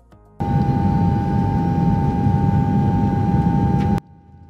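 Airplane cabin noise during a flight, a loud steady low roar with a constant tonal hum that cuts in abruptly and stops just as suddenly, with quiet before and after.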